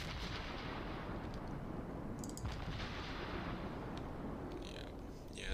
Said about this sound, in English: Yeah, that's the Miyoko's torpedoes right there